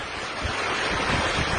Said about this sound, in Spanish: hay viento más fuerte